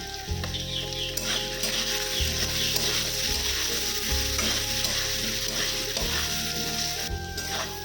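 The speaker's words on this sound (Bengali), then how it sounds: "আলুগুলোটা ভাজা হয়ে গেছে" Potatoes frying in a pan with a little turmeric, a steady close sizzle under repeated scraping stirs of a spatula, with no talking.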